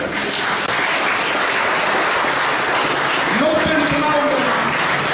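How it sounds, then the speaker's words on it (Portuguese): Loud, sustained applause from a church congregation at an inauguration gathering, continuous dense clapping with voices heard faintly beneath it. "um aplauso para você"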